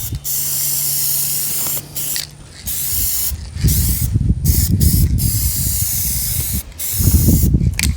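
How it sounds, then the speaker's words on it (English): Aerosol spray paint hissing onto horse barn stall fronts in long continuous bursts with brief pauses between, close and loud, a can's rattle and clicks in the gaps. "All right, let's start spraying here."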